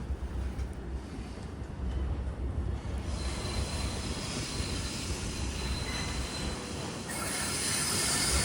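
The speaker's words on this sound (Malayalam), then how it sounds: "അപ്പോൾ ആ ഒരു ലോക്കോമോട്ടീവ് അവിടുന്ന് ഇനിയിപ്പോൾ ഇങ്ങോട്ട് വരും." A diesel locomotive arriving for a loco reversal on Sri Lanka's Galle–Colombo coastal line, heard as a steady, dense rumble of rolling wheels and engine noise with wind buffeting, growing slightly louder near the end.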